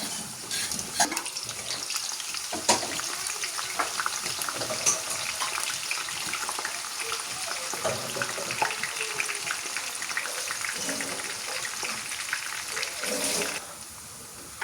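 Potatoes and onions frying in hot oil for chicken rice, a steady close crackling sizzle that holds evenly throughout and drops off abruptly just before the end.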